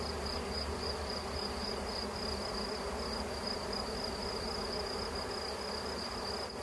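Bees buzz continuously and densely around a hive during a colony recovery, a steady close hum with a sharp high whine running throughout.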